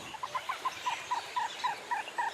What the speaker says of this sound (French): Là, on entend bien la poule d'eau.